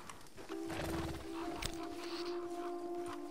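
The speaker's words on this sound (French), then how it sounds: "Je vais vous présenter mon cheval" Horse in a Mutafukaz 1886 video game, with soft hoof clip-clop and a faint whinny-like sound under a steady tonal game music drone.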